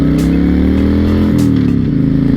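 A 2006 Honda VTX1300 motorcycle accelerates on the road, its loud close V-twin engine note climbing in pitch through a brief rev with no voices.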